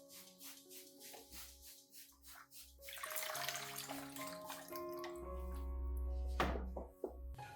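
Water poured over orchid roots and growing medium, a soft splashing flow with dripping and a few dull knocks, close and fairly quiet, over gentle background music.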